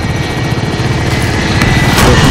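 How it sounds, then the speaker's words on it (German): Helicopter in the video game Call of Duty: Warzone, a loud, steady rotor thrum with rapid blade chop filling the whole moment, close and continuous. "Der hat einen Heli geschickt."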